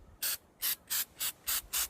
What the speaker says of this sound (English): short bursts work much better than the even spray that I normally like to do with spray paint